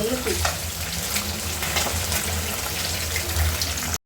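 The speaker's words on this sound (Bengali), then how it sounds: "এখন আমি মাছগুলোকে ভেজে নেব।" Tilapia and rohu fish pieces fry in oil with a steady, close, dense sizzle that holds evenly throughout, no talk over it, ending in a sudden cut.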